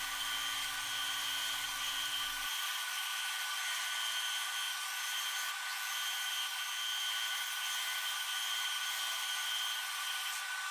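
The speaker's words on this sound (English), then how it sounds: "The center section of the disc set is cut out on a scroll saw with a 14 teeth per inch" Scroll saw fitted with a 14 teeth per inch blade cutting out the center of a wooden disc, a steady high-pitched whine and buzz that runs continuously and loudly throughout.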